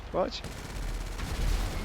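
Explosive cannons on a fighter aircraft fire in GTA V, a sharp burst of rapid booming shots followed by a rumbling roar, loud and close, with a voice talking briefly at the start.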